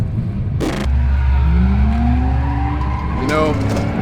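Twin-turbo 2JZ Lexus GS300 drifting in a tandem run, its engine roaring steadily while tires squeal in a long rising howl, with a second burst of screeching near the end and a voice talking over it.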